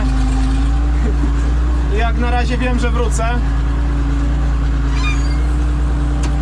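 A tractor engine runs steadily while driving on a farm during the grain harvest, a constant loud low drone with someone speaking over it.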